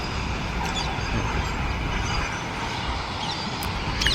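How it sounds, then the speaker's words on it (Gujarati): A train passes at a distance near a farm home, giving a steady broadband rumble and rush that holds evenly throughout, with faint higher squeals near the end. No one speaks. "આમ ટ્રેન નીકળીનો અવાજ આવે"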